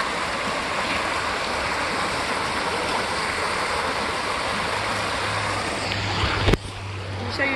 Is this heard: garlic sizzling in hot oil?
no